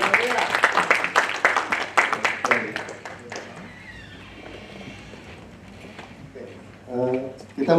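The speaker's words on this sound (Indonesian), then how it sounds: "boleh kita tepuk tangan untuk bagi Tuhan" A church congregation at a Sunday service gives a burst of dense clapping that thins out over a few seconds, leaving a quiet room before a voice briefly speaks at the end.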